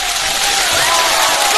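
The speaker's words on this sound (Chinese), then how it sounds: "来，掌声鼓励一下" Audience applause for a comedy sketch on stage, a dense, even wash of clapping from a crowd with no pauses.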